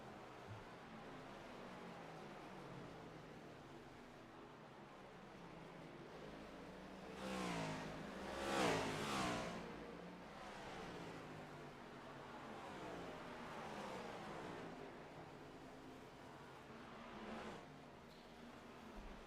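Next Gen Cup Series stock cars in a sim racing game at Richmond, engines droning steadily throughout with one louder revving surge past the middle and a smaller swell near the end.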